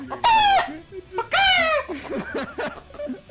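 A person imitates chicken noises, giving two loud, drawn-out crowing squawks followed by quick, choppy clucks, with speech and giggling mixed in.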